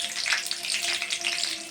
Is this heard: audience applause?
no